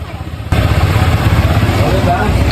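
ATV engine running at an ATV rental arena in Jungle Land, a steady mid-pitched motor drone that starts abruptly and holds loud and close, with people talking over it.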